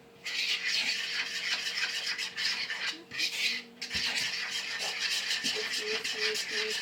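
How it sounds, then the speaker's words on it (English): Whisking biscuit ingredients in a bowl, a steady scraping, rasping rhythm that runs continuously with brief pauses, close and fairly loud. "Then you'll whisk it in there before you ever add in your other stuff"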